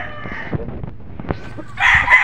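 A Golden Boy sweater gamefowl rooster crows close by, one crow fading at the start and another loud crow at the end, with soft scuffling between.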